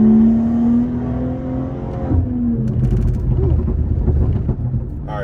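BMW G30 540i sedan with a 530 hp engine pulling uphill in third gear on a twisting mountain road, revs climbing then easing into a corner, loud and close from inside the car, with brief talk.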